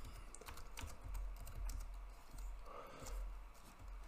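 Code being typed on a computer keyboard, with quick, steady clicks of the keys played close up in a quiet room.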